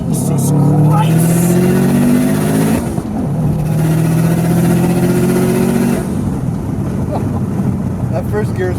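Inside a Subaru WRX hatchback, the engine revs up hard in first gear, drops at a shift, then climbs loudly again, with rushing wind noise and excited voices throughout.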